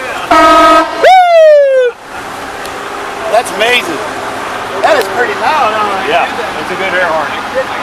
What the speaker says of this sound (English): So is this the air horn?